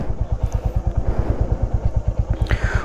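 A motorcycle runs on the road with a steady, close engine thump in even, rapid pulses that continue throughout, with no talk.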